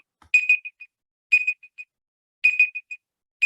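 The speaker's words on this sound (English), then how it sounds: "that's my timer" A timer alarm going off with repeated bursts of bright electronic chirps, each burst a quick cluster of tones, recurring about once a second, clear and alone without talk.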